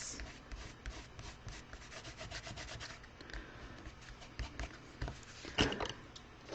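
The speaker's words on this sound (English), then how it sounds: "Rub off the excess." Soft, faint rubbing strokes sound as a hand smooths off the excess on a craft paper strip pressed onto a card, a quiet close-up scuffing that ends in a few firmer rubs.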